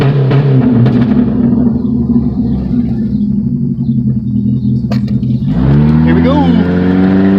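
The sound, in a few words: straight-piped GM 2.2L car engine revving during a pull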